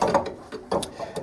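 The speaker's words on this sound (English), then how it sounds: "I'm putting the lock nut all the way on the bottom" Spanner wrench clicking and scraping against a coilover lock nut on a 1968 Mustang, several short metallic ratcheting bursts at close range with brief pauses between.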